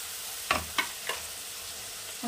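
Finely minced onions frying in a pan for a Bengali katla fish korma, a low sizzle punctuated by three sharp stirring knocks of a spoon, close and without talk.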